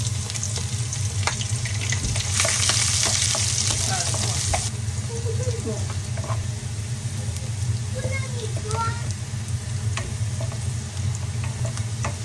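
Garlic sizzles and crackles steadily in hot oil in a pan, close and continuous, with scattered pops and a stirring scrape, while a person talks over it.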